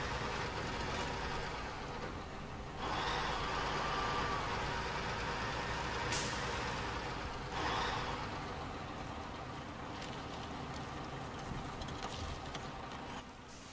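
A truck engine labors under heavy strain on a snowy road in SnowRunner, fitted with a smaller engine than its large stock one, droning steadily at moderate level with a few brief louder surges and mechanical clatter.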